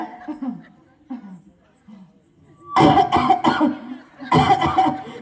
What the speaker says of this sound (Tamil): அம்மா இருமல் வருது.